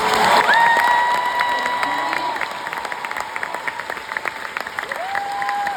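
A crowd at a political rally in Plattsburgh claps and cheers loudly, the applause strongest at first and tapering slightly, with scattered shouts and whistling tones riding over the clapping.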